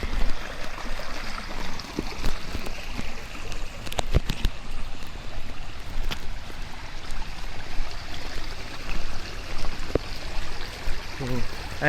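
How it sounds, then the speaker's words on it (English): A small water stream crossing a muddy monsoon forest trail near Koknipada village, a steady close babble and trickle with occasional splashes and footsteps. "Small water stream in between our way."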